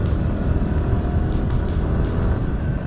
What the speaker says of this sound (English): That car behind me is getting on my nerves.